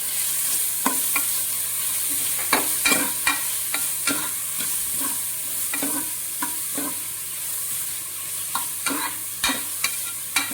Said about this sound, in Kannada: ಈರುಳ್ಳಿ ಕಲರ್ ಚೇಂಜ್ ಆಗುವವರೆಗೂ ಫ್ರೈ ಆಗಬೇಕು.